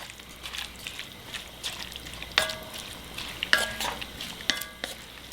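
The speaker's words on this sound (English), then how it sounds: "we want to make sure we're using that liquid to scrape up some stuff from the bottom" Chardonnay deglazes a pot of chicken soup base as a utensil scrapes browned bits from the bottom, a soft sizzle with faint scraping and a few brief clinks, fairly quiet and close.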